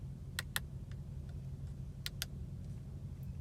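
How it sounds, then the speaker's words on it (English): Crisp button clicks inside a 2021 Audi SQ7 cockpit, a few sharp paired taps spaced apart over a low steady engine hum, close and fairly quiet. "The buttons have like solid clicks as well"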